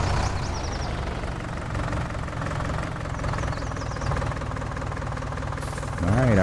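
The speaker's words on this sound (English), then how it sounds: "It's a nice little tractor." A tractor engine in Farming Simulator 19 idles with a steady, slightly knocking mid-low rumble that holds throughout, swelling a little at the end.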